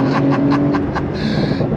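A 2024 Porsche 911 Turbo S with all-wheel drive accelerates hard on throttle, its engine note loud and steady with rising, pulsing bursts, heard from inside the car.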